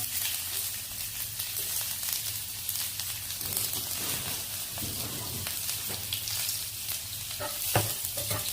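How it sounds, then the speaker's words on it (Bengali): Chopped onion frying in a little oil in a pan, a steady close sizzle with occasional stirring scrapes throughout. "অল্প একটু তেল দিয়ে দিছি দেওয়ার পর আমি এখানে একটু পেঁয়াজ কুচি দিব"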